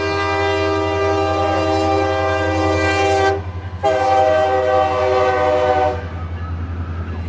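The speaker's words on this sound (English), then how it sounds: "we're close to the railroad tracks, folks. First one we've seen going northbound, though." A northbound freight train passes close to railroad tracks beside a high school softball game, its horn blasting loud and sustained in two long blows over a steady rumble of rail cars.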